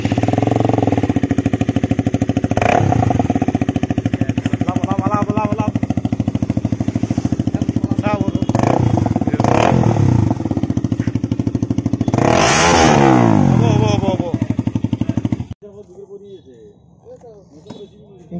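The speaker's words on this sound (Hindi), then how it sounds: "अब उसका साउंड देखेंगे हम लोग बाइक को स्टार्ट करके।" A KTM Duke 200 motorcycle with a modified loud exhaust starts and revs up close, loud blips rising and falling over a steady idle before cutting off, with quieter sound after it stops.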